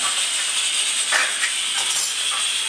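Water boiling in a cooking pot while asparagus is prepared gives a steady, bright hiss and bubbling roar, close and continuous with no talking.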